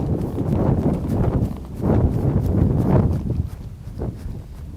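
Horse walking on uneven outdoor ground, a steady run of close, dull hoof thuds in an irregular rhythm with soft rustling between steps.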